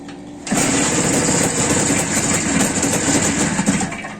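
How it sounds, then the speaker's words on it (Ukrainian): An IZh motorcycle engine fitted with an SDI ignition kit, its carburetor in need of adjustment, starts after a half-second pause and then runs loud and close at a steady, buzzing idle. "Ну, коротше, мотор робить."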